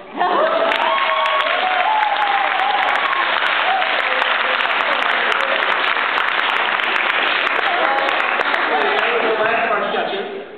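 An improv show audience applauds in a dense, sustained wash of clapping that holds steady for about ten seconds, with voices talking and calling out over it throughout.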